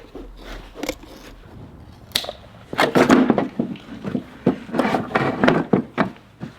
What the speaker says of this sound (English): And a heavy duty scissors.